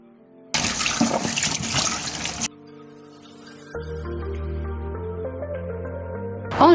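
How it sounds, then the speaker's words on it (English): Water runs from a tap into a container for storing carrots in a kitchen, a brief close gushing splash that stops abruptly, followed by quieter clinks and household sounds. "I'll be adding water inside my carrot to keep it fresh."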